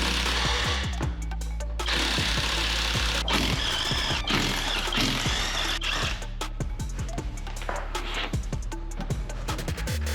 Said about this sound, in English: We figured out the second time to use an impact wrench.